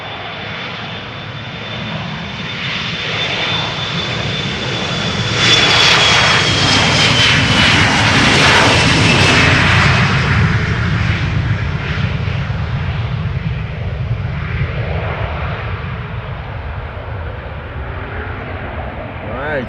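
Airliner jet engines on a departing flight to Stavanger, rising to a loud roaring swell that peaks midway and then slowly recedes into a broad, fading rumble.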